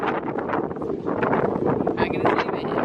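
Strong wind at the Top of the Rock observation deck in New York buffets the microphone with continuous loud roaring gusts, close and unbroken throughout.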